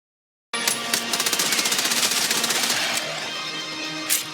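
Rapid, loud bursts of shotgun fire in a shooter video game, a fast rattling string of sharp close shots for a couple of seconds, then a lower ongoing rumble and one last blast.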